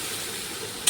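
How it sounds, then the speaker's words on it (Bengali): Masala spices fry in hot oil tempered with cumin, dried chilli and garam masala, a brief continuous sizzle close by, ending with a small bright clink. "মশলাটা একটু ভাজা ভাজা হয়ে গেলে"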